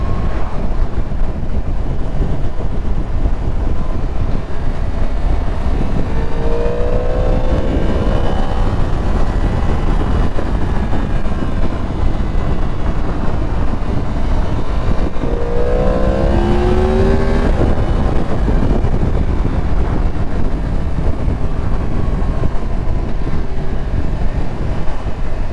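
A 2022 Yamaha MT-10 motorcycle is ridden at speed, its engine a loud, steady drone under heavy wind rush, the pitch rising and falling twice as the rider shifts and changes speed.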